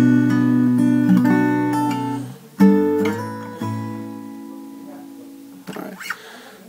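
Electric-sounding guitar picking the intro of a song, plucked notes ringing out and sliding upward in pitch, played alone in two phrases with a short gap, then fading to a faint scrape at the end.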